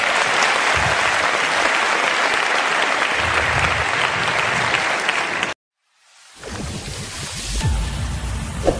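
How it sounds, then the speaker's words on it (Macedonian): Sustained applause from a comedy show audience in Strumica greeting comedian Mr. Dzhambazov, loud and dense, breaking off abruptly to a moment of silence before clapping and crowd noise swell up again more softly. "поздравиме со ше еден аплауз господин Джамбазов"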